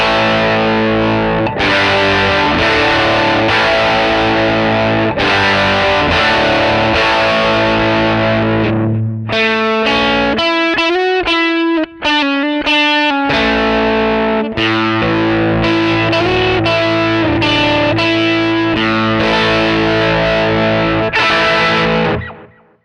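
An electric guitar played through a driven Fender Princeton Reverb amp: loud, distorted sustained chords ring out, with a quieter passage of choppier picked notes in the middle, then full chords return and cut off at the end.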